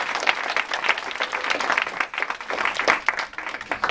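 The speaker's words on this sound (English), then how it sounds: "So give yourselves a round of applause." A class of students gives themselves a round of applause at a product-idea showcase, dense close-up clapping that runs steadily throughout at moderate volume.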